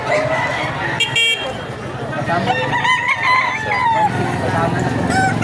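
Many roosters crow and chickens cluck in a loud, busy crowd at a chicken market in Baliuag, Bulacan, with people talking nearby and an occasional horn in the background.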